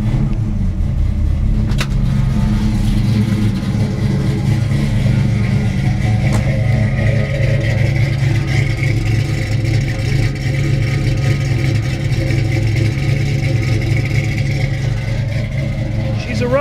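A restored 1971 Ford Mustang Mach 1 engine rumbling steadily close by, a deep continuous idle throb with a faint mid hum, heard under someone talking.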